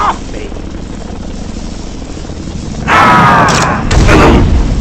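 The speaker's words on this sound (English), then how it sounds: "Ooh, more helicopters? Oh, how exciting!" Helicopter in the Batman Arkham Asylum video game, a loud rotor roar swelling in near the end over steady game rumble, with booming impacts.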